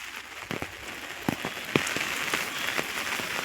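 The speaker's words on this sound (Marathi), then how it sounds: "आलाय थोडासा पाऊस मित्रांनो" Light rain falls on acacia tree leaves outdoors in a village, giving a steady soft hiss broken by scattered sharp drips and taps, close and fairly quiet, with no voices.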